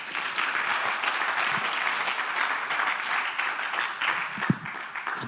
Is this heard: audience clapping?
yes